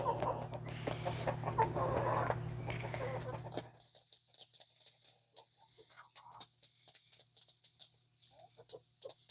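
Backyard chickens, including a rooster, clucking and calling in short, scattered bursts against a steady high insect drone, with heavier mixed activity early that thins to sparse, nearby clucks.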